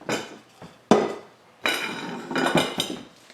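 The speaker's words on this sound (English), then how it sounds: "First thing I'm gonna do is chop up some roll butter." A knife chops a big chunk of roll butter into pieces, giving about half a dozen sharp knocks against a board, spaced irregularly and heard up close without talk.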